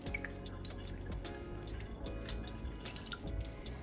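Cold water poured and dripping while rinsing homemade butter in a kitchen: close, uneven trickles and splashes with scattered drips throughout, fairly quiet and with no talking.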